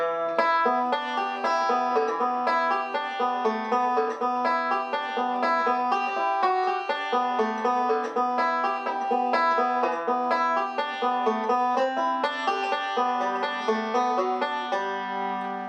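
Banjo plays a bright, continuous picked pattern from Blackberry Blossom, with rolling notes, hammer-ons and sliding pitches, steady and close, with no talking.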